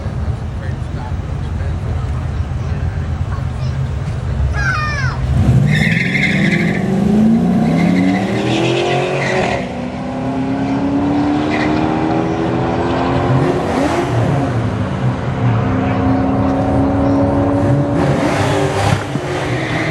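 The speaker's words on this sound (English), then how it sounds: "Pretty sure that would be a turbo Mustang." A turbo Mustang making a street-legal drag racing run, the engine roaring and revving hard through rising gear sweeps with tire squeal, loud and close at first, then fading under crowd noise and voices.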